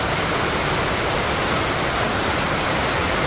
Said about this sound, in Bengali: এই যদি আমরা বৃষ্টি দেখাই, এরকম বৃষ্টি কি দেখতে পারেন?